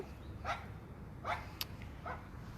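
A dog gives three or four short, fairly faint barks or yips spaced about a second apart, with a sharp click between them over a low background hum.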